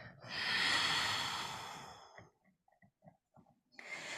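During a yoga exercise, a long, close, breathy exhale swells and fades over about two seconds, followed by soft small sounds of movement and the start of another breath.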